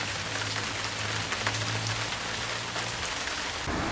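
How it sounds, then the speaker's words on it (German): Heavy rain shower pounding down at a bus stop on the Danube bike trail between Vienna and Budapest, a steady, loud, close wash of drops on surfaces with no voices. "sitze an einer Bushaltestelle einen weiteren kräftigen Regenguss aus."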